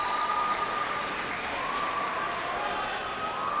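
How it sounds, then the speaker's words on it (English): Crowd cheering and applauding at an ice hockey world championship game as South Africa wins, a steady dense roar of clapping and shouts from a large arena audience with a faint whistle-like tone. "The crowd goes wild."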